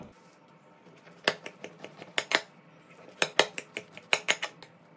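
A knife cuts through a soft baked lavash dish on a plate, giving a series of sharp clicks and scrapes as the blade strikes the dish, in irregular bursts that are close and fairly clear.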